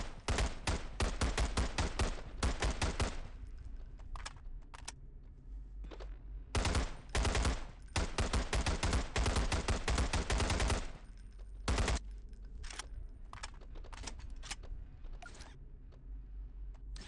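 An AK rifle in HDTF fires in loud, close, rapid automatic bursts, several long strings of shots separated by short pauses, with a few single shots and mechanical clicks, and no speech over it.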